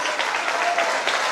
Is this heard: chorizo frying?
no